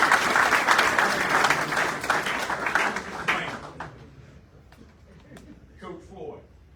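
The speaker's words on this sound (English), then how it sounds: "give a applause for that" An indoor audience at a talk about Myrtle Beach Seahawk football claps, loud sustained applause over the first few seconds that fades to a few scattered claps, with a voice speaking near the end.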